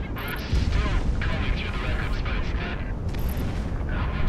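Missiles fire and explode in the jet combat game Project Wingman, a dense rumbling roar with thudding bursts and whooshes throughout, while a voice speaks over it.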